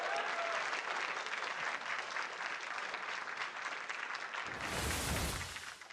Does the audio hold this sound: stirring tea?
no